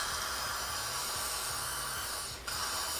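Steady close spray hiss while cleaning a Shimano Calcutta Conquest fishing reel, continuous for a few seconds with a brief dip near the end, no talking.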